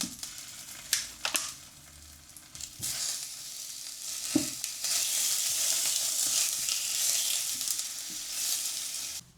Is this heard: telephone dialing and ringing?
no